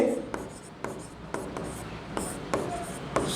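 Pen or chalk writing out a physics formula for refraction at a spherical surface in a lens lesson: a run of short scratchy strokes with regular gaps, close and moderately loud, with no talk over it.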